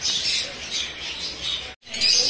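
African lovebirds squawking in a pet store, a burst of shrill, overlapping cries that keeps going, breaks off in a short silence, and then starts again.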